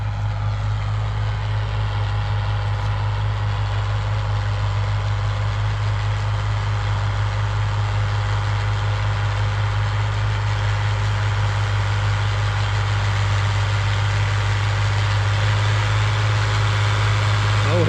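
A John Deere tractor engine runs steadily nearby, a deep constant idling rumble with a strong low hum that barely changes throughout.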